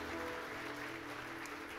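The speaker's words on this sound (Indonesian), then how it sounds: "Mari kita kasih tepuk tangan yang paling meriah buat Tuhan kita." Clapping from a church congregation fills the space in a continuous, moderately quiet wash, with a steady hum underneath and no voices on top.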